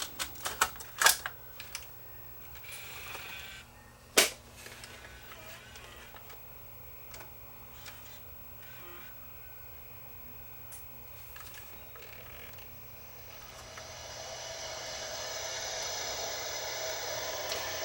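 A repaired Sharp Viewcam camcorder runs its tape mechanism, with a few sharp clicks and clunks early on, then a steady quiet whir that rises into a louder hiss near the end; close and fairly faint.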